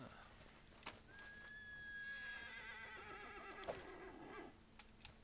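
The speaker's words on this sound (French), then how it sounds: "Ouh la vache, il y a un cheval qui est pas content." An angry horse whinnies in the Pathfinder: Kingmaker video game, one long, loud, wavering neigh over a faint background.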